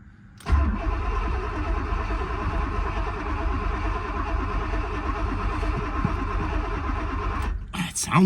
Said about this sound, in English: The motor sounds healthy. The motor sounds like it has good compression